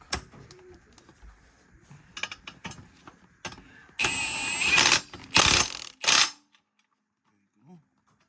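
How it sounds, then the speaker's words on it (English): An impact wrench with a socket tightens a bolt on the steering of a John Deere lawnmower, giving three loud rattling bursts after scattered tool clinks and handling noises, then falling silent. "Put this socket back on top of the impact."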